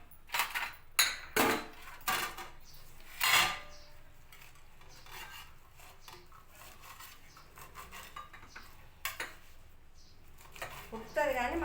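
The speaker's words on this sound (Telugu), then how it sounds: "ఈ తోటకూర కూడా మంచిది కాబట్టి ఈ తోటకూర కొంచెం కట్ చేసుకొని" Amaranth leaves being chopped for a moong dal and ridge gourd dal, with a handful of sharp knife taps on a board at the start, then quieter scraping and rustling.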